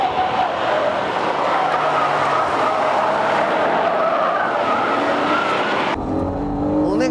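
A Honda NSX Type S slides through a corner on a race circuit, loud engine roar with sustained tire squeal and skidding close by, ending abruptly into a brief quieter engine note.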